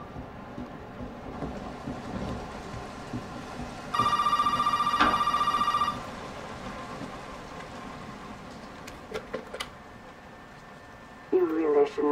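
Telephone ringing in Resident Evil 7, a bright electronic ring lasting about two seconds over steady rain-like ambience, with faint clicks and a brief louder noise near the end.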